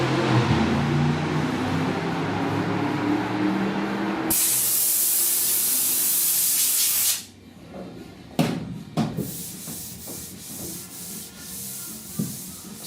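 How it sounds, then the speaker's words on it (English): Block sanding primer/surfacer on the rusty, pitted roof of a 69 C10: a loud, continuous abrasive rubbing for about seven seconds that then stops, followed by scattered knocks and handling noises. "I just see my sandpaper's loading up here where I had sweat on it"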